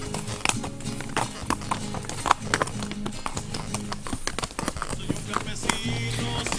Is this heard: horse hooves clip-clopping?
yes